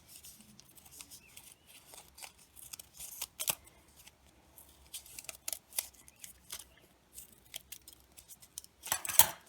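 Scissors snipping through a folded paper snowflake, giving a run of quiet, irregular crisp cuts and rustles at close range with brief pauses and a louder burst near the end.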